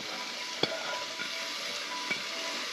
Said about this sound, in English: Saute this for a little bit